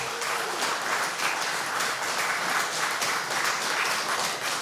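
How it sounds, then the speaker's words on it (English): Steady audience applause at a news briefing, a continuous even patter of many hands clapping, moderately distant and uninterrupted throughout. "Give the Taiwanese a round of applause."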